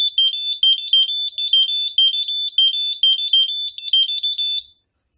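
A Basuri three-trumpet telolet bus horn plays a quick repeating melody, bright piercing tones in short bursts cycling several times up close and loud, then stopping abruptly.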